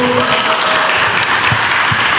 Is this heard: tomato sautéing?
no